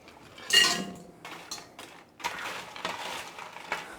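Dry bread pieces tip into a mixing bowl with a sharp clatter, then rustle and tap against the bowl in several short, close bursts.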